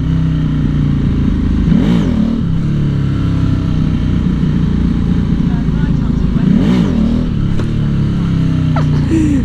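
A motorcycle engine revs hard as its rear wheel spins, the drone swelling in two sharp surges over steady riding noise and wind.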